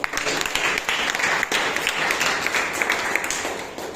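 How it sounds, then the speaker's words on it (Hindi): Audience applause greeting people gathered at a mission event, a dense wash of clapping that runs steadily for the whole stretch with a few sharper claps near the start. "जोरदार ताली स्वागत है आपको।"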